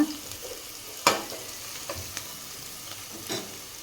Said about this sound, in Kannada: ಈಗ ಈರುಳ್ಳಿ ಎಲ್ಲ ಚೆನ್ನಾಗಿ ಫ್ರೈ ಆಗ್ಯಾವ